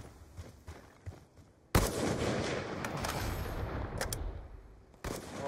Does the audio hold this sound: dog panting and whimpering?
no